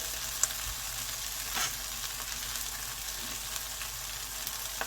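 Garlic and herbs sizzle and fry in a pan of sausage fat, a steady close crackling hiss with a few soft stirring scrapes.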